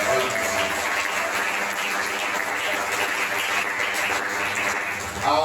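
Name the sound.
church congregation applauding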